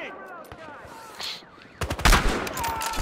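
Gunfire in the video game Battlefield Hardline, starting with scattered light shots and then a loud, dense burst of rapid automatic fire in the second half, with faint game noise underneath.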